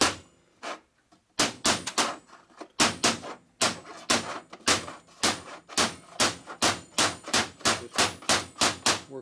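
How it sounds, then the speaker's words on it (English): Steel hammer tapping a bearing into a Harley shovelhead transmission: sharp metallic taps, a few sparse hits at first, then a steady rhythmic series of close, ringing strikes. "If you use a steel hammer like this,"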